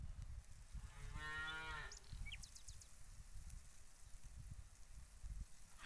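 Cows mooing in the farming game Farmer's Dynasty, with one long, drawn-out moo over a low ambient rumble and a few faint chirps, heard alone.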